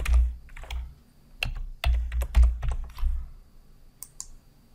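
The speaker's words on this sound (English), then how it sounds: "If I type something that's not there," Keystrokes on a computer keyboard in bursts of quick taps with short pauses, close and fairly quiet, with no voices.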